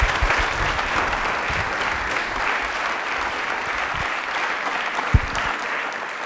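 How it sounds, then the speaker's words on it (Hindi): Sustained applause from a studio audience at a televised quiz show, dense clapping that carries evenly from start to finish. "तालियां एक बार जोरदार हो जाए डॉक्टर मैम के लिए"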